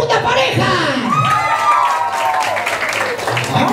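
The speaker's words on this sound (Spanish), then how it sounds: "¡Palmas y gritos para nuestra segunda pareja!" Guests at a child's first birthday party shout, whoop and clap for a dancing couple, a loud, lively crowd with cheering voices and scattered claps over music.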